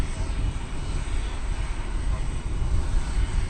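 A plane takes off from runway 18 left at DFW Airport, its engines a broad steady roar heard from a distance, with no talk over it.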